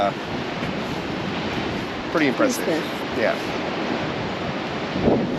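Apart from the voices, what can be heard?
ocean waves breaking on a beach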